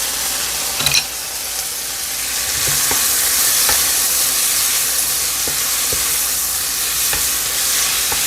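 Bacon and dried eggplant sizzle loudly in a hot pan with a steady frying hiss, punctuated by occasional sharp clicks of a utensil stirring, and no voices.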